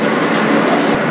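A New York subway F local train made of Alstom R160A cars runs at speed, giving a loud, steady roar of wheels and motors with a faint rhythmic clatter, heard from inside the car.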